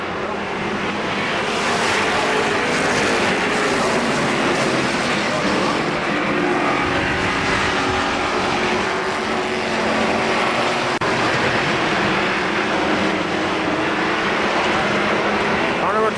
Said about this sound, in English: We are racing green flag flies.